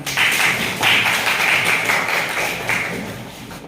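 Schoolchildren in an elementary classroom clap in short rhythmic bursts, several patterned rounds of close, sharp hand claps with almost no talking.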